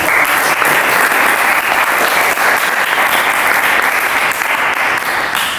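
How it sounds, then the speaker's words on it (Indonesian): An audience at an Indonesian seminar on fermenting human urine into fertiliser claps in sustained applause, a dense steady clatter of many hands that stays loud throughout before fading slightly at the end. "mari kita memberikan aplaus"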